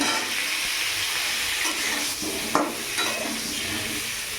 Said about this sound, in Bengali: ফুলকপিটা হালকা একটু ভেজে নেব